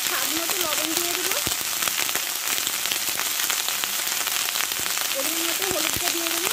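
Bengali-style vegetarian data chorchori (drumstick stem stir-fry) sautés in a pan with a constant, dense sizzle like light rain, with faint voices in the background.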